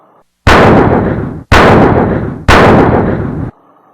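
Three loud, close gunshot bursts fire one after another at even one-second intervals, each with a sharp attack and a long rumbling decay, as a weapon's remaining ammunition is emptied.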